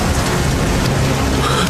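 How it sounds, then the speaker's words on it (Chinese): Heavy rain pours steadily on open ground at night, a dense continuous hiss close and loud with no voices. "在大雨的冲洗下"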